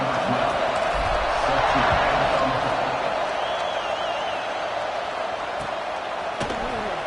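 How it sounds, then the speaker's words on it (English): Stadium crowd noise at kickoff in College Football 25, a broad, steady roar of fans with faint cheering, loud and constant throughout under a game commentator's voice. "They're set to kick it off, and this crowd now ready to get behind them."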